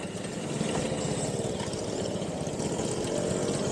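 A small 50cc four-stroke moped engine on a Puch Maxi or BSA Ariel 3 runs steadily at close range, a continuous buzzing drone with no talk over it.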